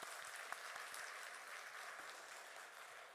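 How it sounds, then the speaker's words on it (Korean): A church congregation gives a round of applause, a continuous, evenly sustained patter of many hands clapping, faint and distant, with no talking over it. "우리 방송 청년들을 위해서도 박수 한번 합시다."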